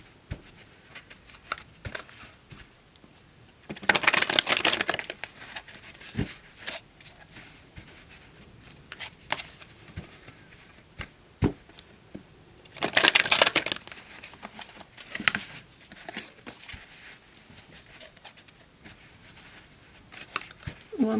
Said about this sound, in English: I'm just going to shuffle the cards, pull them